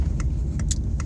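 A bus or lorry approaching at a road junction, a steady low rumble of traffic with a few brief jangling clicks on top, fairly close.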